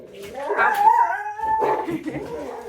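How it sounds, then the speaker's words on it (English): A dog gives a drawn-out howling yelp followed by a shorter whining bark, fairly close and clear, with no talking. "dog's barking"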